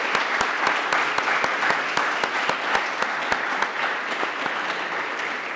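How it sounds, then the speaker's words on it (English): An audience at a college author talk claps in sustained applause, dense and steady throughout with a few sharp individual claps standing out. "can we please give Rudy a round of applause for his generosity?"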